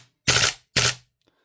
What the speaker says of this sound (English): Set it to full auto and give it another test fire